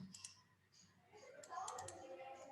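Typing on a computer keyboard during a session working in R software: soft, irregular key clicks come in quick bursts at close range, with faint background noise underneath.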